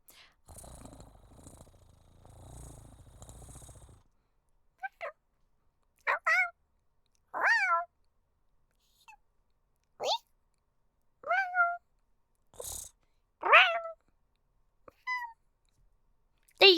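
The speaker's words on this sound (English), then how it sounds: "Stupid cat noises." Run of short cat meows, several distinct mewing calls spaced irregularly and fairly close, following a stretch of low rumbling purr-like noise at the start.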